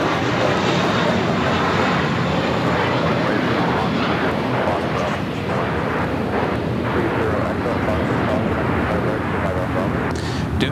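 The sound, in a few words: airplane taking off at LAX airport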